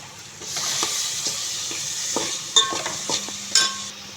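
Chickpeas are stirred and mixed in a pan, giving a soft hiss along with scraping and a few louder metallic knocks from the spoon, heard close up.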